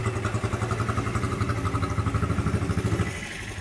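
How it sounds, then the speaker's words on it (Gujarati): Hyundai i20 petrol engine, freshly reassembled after head work, idles close by with a steady rhythmic chug and light mechanical clatter, settling slightly quieter near the end; no talk. "i20 નું એન્જિન આપણે ખોલેલ હતું અત્યારે બધું ફિટ થઈ ગયું છે અને કમ્પ્લીટલી ચાલુ જ છે અત્યારે"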